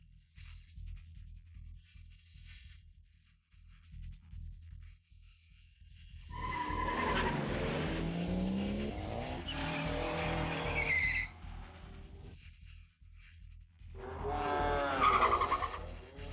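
Sport compact four-cylinder drag race cars on the strip, tires squealing and engines revving in long loud bursts separated by quieter gaps, with an engine drone in the background.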